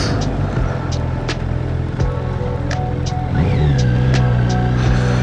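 A Kawasaki Z900 motorcycle pulls hard in fourth gear on an open country road, its engine tone rising steadily from a low drone over wind rush, loud and close from the rider's seat.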